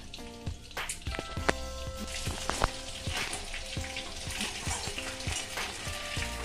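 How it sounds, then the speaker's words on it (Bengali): Chicken pieces fry for chilli chicken in hot white oil, a dense, continuous sizzle and crackle with scattered metallic clinks and taps as the pieces are stirred. "দেখুন চিকেনগুলো ভাজা হয়ে গেছে।"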